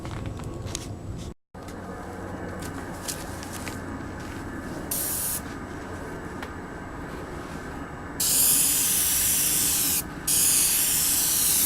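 Steady hissing spray from a paint gun or spray can applying thin coats of accent stripe paint to motorcycle wheels, continuous with brief pauses and a louder, brighter burst toward the end.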